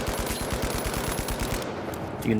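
Rapid automatic gunfire rattles steadily in the shooter The Finals as the player moves, a fast even stream of close shots for about a second and a half before cutting off into a brief clatter.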